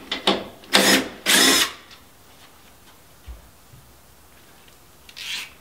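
A power tool backs out a 17 mm bolt on a Yeti SnowMX snowbike drive setup, giving three short whirring bursts close up, then near-quiet, a small clunk and one more brief burst.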